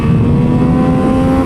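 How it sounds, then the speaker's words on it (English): A 2022 Triumph Speed Triple 1200 RR naked motorcycle on a racetrack, its engine droning loud and close at high revs with a steady, buzzy tone and no break. "Even though it makes a lot of horsepower, it still revs out like a naked bike engine"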